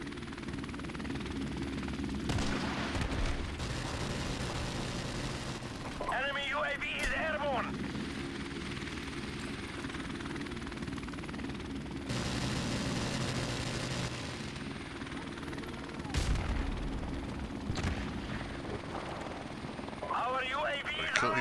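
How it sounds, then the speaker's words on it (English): Friendly helicopter arriving in a Call of Duty match: a steady, loud rotor drone with thumping blades runs through the whole stretch, under players talking and other in-game noise. "Friendly helicopter on the way! Oh, here he comes now."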